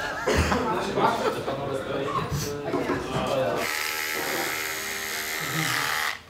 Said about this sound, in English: Trimming the very little hair that I have.